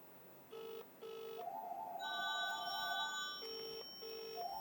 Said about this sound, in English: I'm going to use the dial.